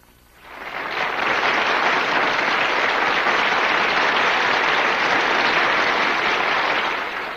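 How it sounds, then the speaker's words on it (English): A large audience at a fashion show applauds a governor, the clapping swelling within a second into loud, dense, steady applause that holds evenly for several seconds with no voices on top. "The applause you hear is for Governor Shivers"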